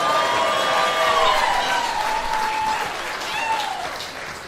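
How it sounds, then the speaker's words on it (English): Steady applause and some cheering from a comedy club audience at a stand-up show, continuous and fairly loud, with a voice speaking over it. "Keep clapping."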